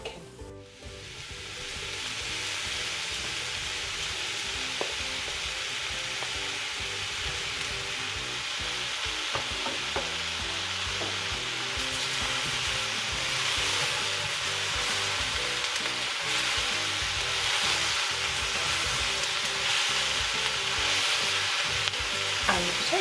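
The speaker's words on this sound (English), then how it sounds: "The onions are all cooked, so I'm going to add the pumpkin." Pumpkin going into cooked onions in a pot for spicy pumpkin soup: a continuous soft sizzle with occasional stirring knocks and scrapes, steady and fairly quiet throughout.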